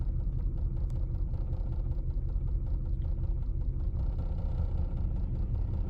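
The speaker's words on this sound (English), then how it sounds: "the engine doesn't sound very good" A 1999 Lexus RX 300 engine with a misfire on cylinder 6 idles in a close, constant deep rumble with faint uneven pulsing, alone and unbroken.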